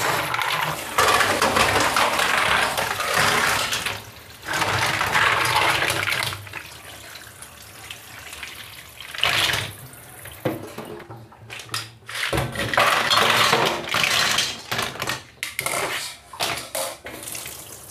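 Running tap water splashes in uneven bursts while hard mussel shells clatter and scrape against each other as they are rinsed, pausing now and then.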